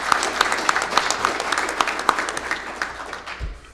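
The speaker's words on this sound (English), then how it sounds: "How about a round of applause?" An audience at a conference opening keynote applauds with dense, fairly loud clapping that thins out and fades over a few seconds, ending with a low thump.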